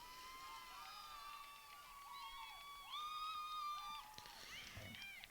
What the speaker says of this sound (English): It's a rousing cheer from the Green Wave dugout.